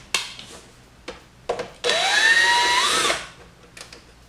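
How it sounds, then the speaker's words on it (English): A power drill whirs steadily for about a second as it unscrews a screw from a case, bracketed by a few short clicks and bumps of handling before and after. "I'm going to use my power drill"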